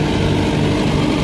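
A Farmall H tractor idles nearby, a steady low engine rumble with an even, continuous throb that holds level throughout.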